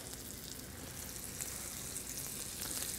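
Turkey tenders laid in a hot pan sizzle and spit with a soft, continuous hiss, fairly quiet and close, and nobody speaks.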